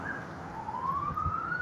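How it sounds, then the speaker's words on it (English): A police car siren wails downtown in Bakersfield. The single rising sweep is fairly faint and far off against steady street hum, with no voices. "Police car, normal for Bakersfield."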